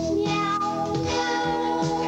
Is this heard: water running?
no